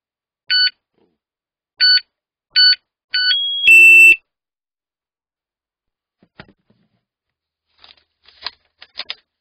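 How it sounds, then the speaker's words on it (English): An Energizer wireless alarm set sounds four short, evenly spaced chime tones, then a loud harsh alarm burst about a second long, followed by faint clicks and handling noises. "we've got alarm and chime, so when anyone walks in, it'll go bing bong or whatever, or actual alarm"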